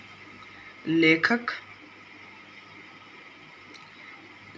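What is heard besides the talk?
horse neighing and hooves clip-clopping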